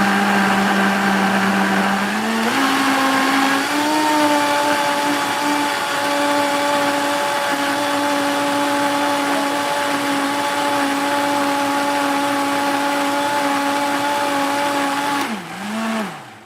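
A blender grinds a thick, chunky mixture, a loud steady motor whine that rises in pitch after a couple of seconds as the chunks break down, running alone before winding down at the end.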